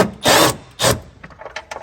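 A power drill fitted with a right-angled T25 Torx bit zips out a fog light screw on a Tesla Model 3 or Y, two short whirring bursts close up followed by faint clicks and handling noises.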